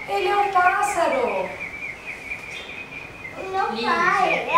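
A man imitates bird calls with his voice, giving bursts of rising and falling whistled chirps at the start and end and a quieter breathy stretch between, recorded close.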